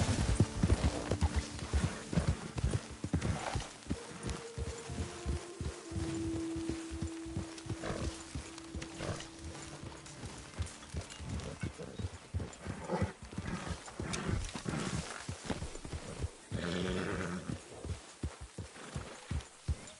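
Steady, rhythmic clip-clop of horse hooves at a trot in the video game Red Dead Redemption 2, close and continuous, with faint background noises and brief tonal hums.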